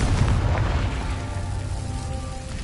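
Confringo blasting spell from the video game Hogwarts Legacy, a sustained rumbling explosion with a dense low boom that holds loud for a couple of seconds and slowly thins out.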